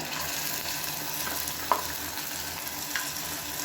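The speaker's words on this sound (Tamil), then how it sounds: "சேர்த்துட்டு நல்லா வதக்கி விடணும்." Ground paste of dried red chilies, garlic, black pepper and cumin sauteing with softened onions in oil, a steady moderate sizzle with occasional soft scrapes and clicks of a stirring spoon in the pan.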